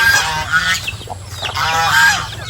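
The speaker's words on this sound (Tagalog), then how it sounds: "tayo ngayon ay sasalubungin ng mga alagang pabo, mga manok dito pagkasok natin" Pet turkeys and chickens calling at close range, loud harsh honking and gobbling cries that overlap and repeat across the moment.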